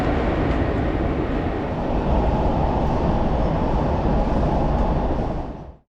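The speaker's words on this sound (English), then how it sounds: "At a metro station in Washington, D.C." A train rumbles through a metro station in Washington, D.C., a loud, continuous roar of wheels and rushing air that holds steady for several seconds before cutting off abruptly.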